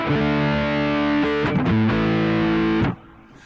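A Blackstar ID:Core V3 100 watt amp plays a loud, sustained distorted guitar tone through a stereo emulated direct output, with a few note changes before it cuts off into a faint decay.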